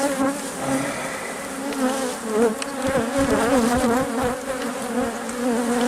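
Honeybees fill the air around an opened hive with a steady, close, defensive buzz. Pitch wavers as individual bees dart near and away, and no voice is heard.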